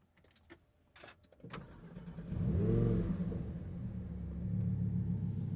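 A Lamborghini Huracan STO's V10 fires up: a few clicks and a starter whir, then a loud, deep rumbling catch that flares briefly and settles into a steady, throbbing idle, close by.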